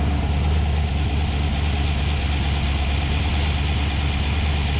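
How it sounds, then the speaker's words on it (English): Close-up of a car engine at idle, a steady low rumble with a faint knocking texture, continuous and unchanging with no talk. "First, we idle the engine so the way it runs nice and smooth"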